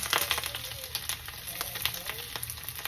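Cabbage pillows fry in olive oil in a pan, making a steady crackling sizzle with a dense spatter of small pops, close and continuous.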